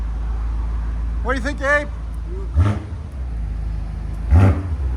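A BMW M5 with a 4.4-litre twin-turbo V8 and Dinan exhaust idles with a steady low rumble, punctuated by two short throttle blips, while people talk nearby.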